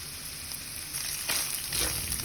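Seasonings and penne pesto pasta with cauliflower sautéing in a hot pan, a steady close hiss and crackle of frying with no talking.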